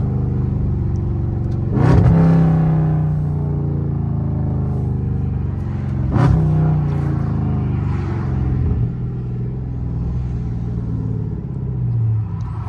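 A Dodge Charger Scat Pack with a catless exhaust idling with a deep rumble, revved sharply twice and then a third softer rise, close and loud.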